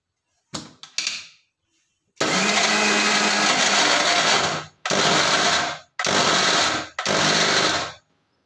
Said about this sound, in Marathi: तर आता मी हे पूर्ण जे तिळगुळ आहे ते मिक्सरमधून फिरून घेणार आहे